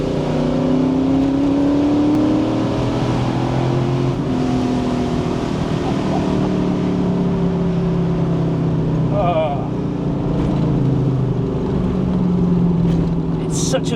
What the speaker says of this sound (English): you can hear the absolute roar of the engine